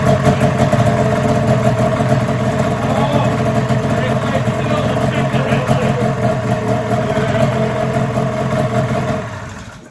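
A cheap snowmobile engine runs loud and steady right after a carburetor repair, with slight rev changes, before cutting off near the end; voices talk over it.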